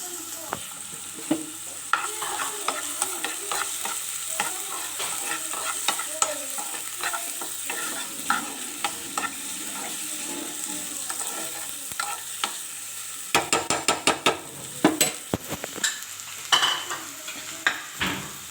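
Chopped tomato and softened onion sizzle in a hot pan while a spoon stirs steadily, with scraping strokes and sharp clinks of utensil on metal growing busier toward the end; no voices.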